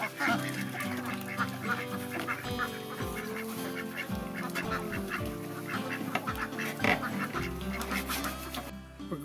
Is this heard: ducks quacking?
yes